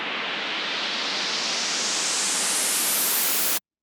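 A white noise riser for a track transition: a loud, steady hiss that sweeps brighter and higher for about three and a half seconds, then cuts off abruptly into silence.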